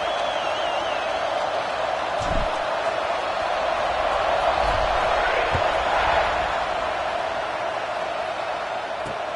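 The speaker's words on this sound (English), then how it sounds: "this crowd is buzzing after that last score" A stadium crowd at a college football game buzzes steadily after a score, a dense, continuous roar of many voices filling the space from a distance, with a few faint thuds underneath and no clear talk.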